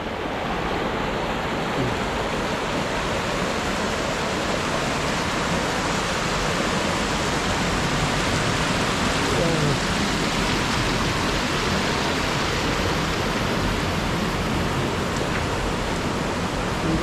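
Water of the Pulunan River, fed from the mountains, rushes in a steady broadband roar, loud and unbroken throughout with no voices.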